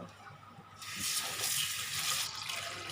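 Running water splashes over split mung beans being rinsed, a soft trickle that swells into a steady, gentle wash for a couple of seconds, with no talking.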